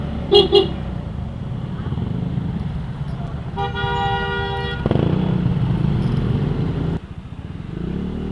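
Heavy highway traffic with engines and motorcycles rumbling up close. Two short horn toots come early, then a longer steady honk, and a voice talks over the road noise.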